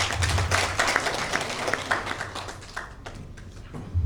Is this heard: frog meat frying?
no